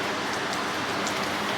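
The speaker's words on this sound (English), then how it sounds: "It is raining." Steady rain falls on a day in Puerto Rico, a dense, even hiss of drops hitting surfaces that stays constant throughout with no talking over it.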